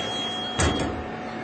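A Phoenix Fire auto-open heat press releases its lid with a short double clunk, heard up close over a steady background hum.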